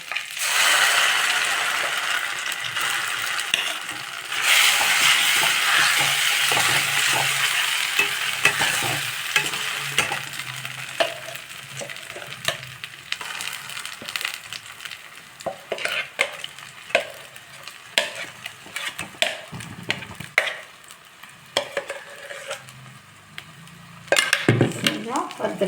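A ground rice and coconut mixture with curry leaves roasts in a pan for upma, with a loud sizzle at first that settles under repeated close scraping and clinks of a spoon against the pan.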